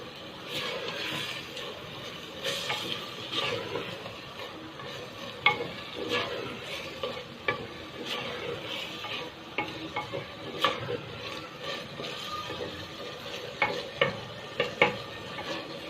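Beef qeema masala is stir-fried in a pan, with a steady soft sizzle broken by repeated clinks and scrapes of a spoon against the metal, close and moderately quiet, with no talking.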